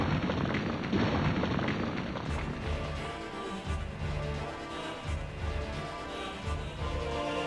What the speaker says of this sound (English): explosions struck several places along the wall